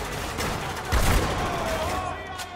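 Bursts of automatic gunfire and a heavy boom from a military shooter video game, Spec Ops: The Line, loud and dense over a constant battle din.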